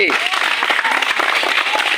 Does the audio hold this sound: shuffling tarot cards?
no